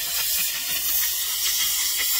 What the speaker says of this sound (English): I'm now gonna use the steam